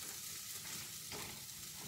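Vegan mince hitting a hot pan of grilled vegetables, a steady close hiss of frying and sizzling with faint stirring, no voices.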